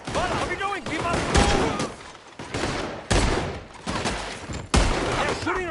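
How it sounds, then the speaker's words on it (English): Gunfire crackles in a Western shootout in Red Dead Redemption 2, bursts of shots and volleys breaking out repeatedly while voices shout over the fighting. "They're shooting right at me!"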